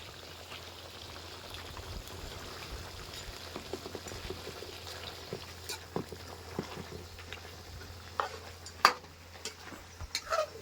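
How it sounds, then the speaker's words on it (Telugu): Mutton curry simmering in a clay pot on a rainy day gives a steady bubbling and popping, with soft irregular plops and a few louder bursts toward the end, heard up close with no talking. "అసలు సౌండ్ మట్టికి భలే వస్తుంది ఉడుకుతుంటే"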